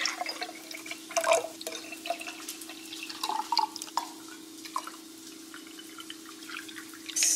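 Pineapple juice, cranberry juice and coconut water are poured into a glass, giving soft trickles and splashes with a few clinks and drips over a steady low hum.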